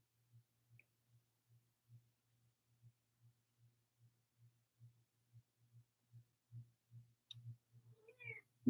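A kitten gives a short meow near the end, after a long run of steady, soft, low rhythmic pulsing that sounds like close purring.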